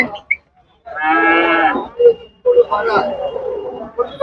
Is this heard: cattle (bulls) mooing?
yes